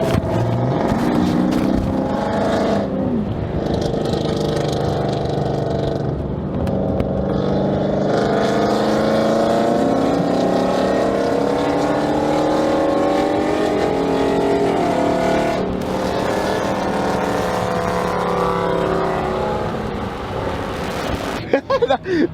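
Dodge Charger fitted with long tube headers drives with a loud, continuous exhaust roar and steady droning engine note throughout, the pitch rising and falling slightly as it runs; voices talk faintly over it.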